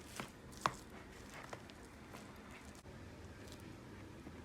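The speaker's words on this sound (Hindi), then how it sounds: "एक दफ़ा हम इसे चॉप करेंगे इसलिए कि ये एक जान हो जाए" A knife chops minced meat for seekh kebabs on a board with faint, irregular soft thuds, including one sharper hit early on, over a quiet background hiss.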